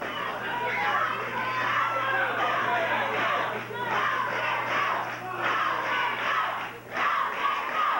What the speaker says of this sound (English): Crowd chanting for the King to go.